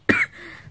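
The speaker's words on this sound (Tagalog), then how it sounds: "Ay, inuubo na naman ako." A single short cough, close and fairly loud, with a brief rasping tail.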